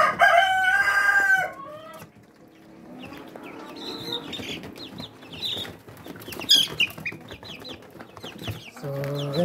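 Rhode Island chicks on a hobby farm give a loud, harmonic fowl call at the start, then lighter scattered chirps and clucks over a busy background.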